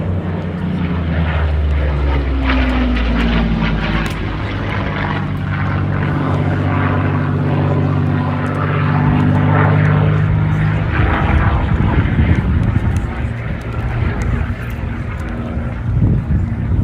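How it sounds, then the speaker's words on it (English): A Packard Merlin-engined Curtiss P-40F fighter flies past at an airshow, its propeller engine droning loudly with a falling pitch as it passes, followed by a rougher roar and wind buffeting. "And this is, in fact, a Packard Merlin engined P-40."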